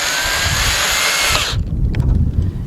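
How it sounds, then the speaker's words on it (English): A power driver runs a screw into the plastic of a window regulator on a 2000 Dodge Ram Van B1500, with a loud, steady whir for about a second and a half that stops abruptly, followed by a few faint handling clicks. "All right, let's put these screws in."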